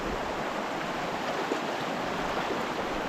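River water muddied by overnight rain is stirred while someone wades through it, a steady broadband rush and wash of flowing water filling the whole stretch without breaks.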